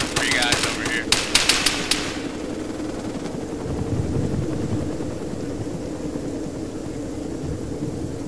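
A helicopter drones steadily overhead in a snowy military game scene, a continuous low rotor rumble, with a rapid burst of gunfire at the start.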